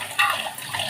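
Water pours into a cooking pot of one-pot coconut milk rice with garlic and chilli powder, a brief, steady, close splashing stream.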